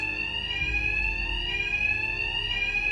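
A loud, steady electronic alarm rings without a break in the Batman Arkham Knight video game, its shrill tone holding level over a low rumbling background, with no voices.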